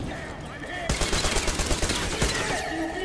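Sustained automatic gunfire in the video game Metro Exodus, a dense rapid fusillade of loud close shots lasting about two seconds, with game noise around it.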